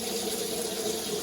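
A tap freshly fixed of its drip runs steadily, a close, even gush of water splashing into a sink with no pauses.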